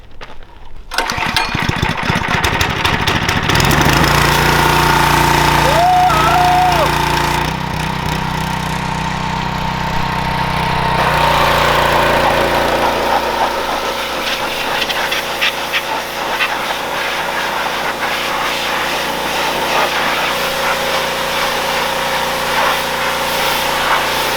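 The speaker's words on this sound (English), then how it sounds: "This is the pressure washer we put a Tilltoson 212 on." A pressure washer fitted with a Tillotson 212 engine runs steadily and loudly nearby, a continuous mechanical drone with shifts in pitch and intensity throughout.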